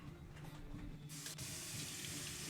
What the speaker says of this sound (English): just kind of take it and run it under the sink